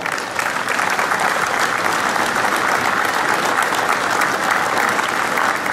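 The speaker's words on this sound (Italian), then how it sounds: "desidero si ringrazi con un grande applauso corale" Sustained group applause at a mountain artillery veterans' reunion, many hands clapping in a thick, even roar that stays loud and unbroken throughout.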